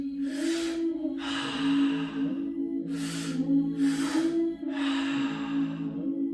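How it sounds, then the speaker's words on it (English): Slow, deep breathwork breaths, four long airy inhale-exhale surges in a steady rhythm, heard close over a constant low droning tone with no talking. "Breathing in and letting go."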